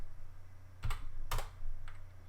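A computer keyboard is typed on in brief bursts while entering Cisco router commands, with a few clustered keystrokes close by in a quiet room.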